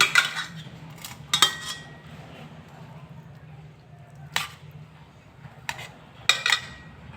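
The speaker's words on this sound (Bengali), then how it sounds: "এই যে খুন্তির সাহায্যে আমি আলুটাকে কেটে নিচ্ছি" Peeled boiled potatoes being cut with a metal spatula in a pot for a vegetarian aloo dum: several sharp, isolated metallic clinks spaced irregularly over quiet kitchen background.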